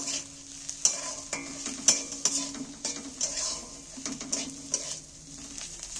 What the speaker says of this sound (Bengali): রসুনগুলো পেঁয়াজের সাথে দিয়ে আমি একটু নেড়ে চেড়ে নেব।